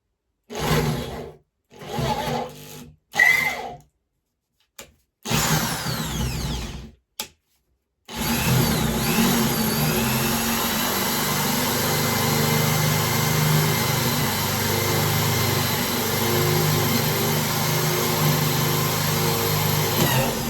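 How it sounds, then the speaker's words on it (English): A power drill drives screws downwards into wood on a model railway layout, several short whirring bursts separated by silences, followed by a longer continuous mechanical drone. "Obviously here I'm screwing downwards, which helps."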